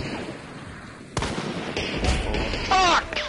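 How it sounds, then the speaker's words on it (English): Pistol shots ring out in the video game Hunt: Showdown, a few sharp cracks spaced apart, followed by a brief burst of other game noise. "He got me with a pistol."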